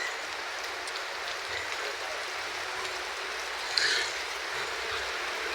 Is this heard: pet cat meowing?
no